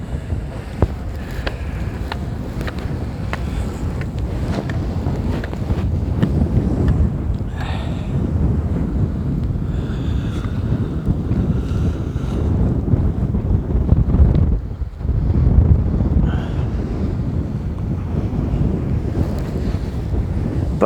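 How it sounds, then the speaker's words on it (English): Strong, steady wind buffets the microphone in cold fog at the Litlihrutur volcano summit in Iceland, a loud continuous rumbling roar with gusty swells and no voices. "Like chilly wind."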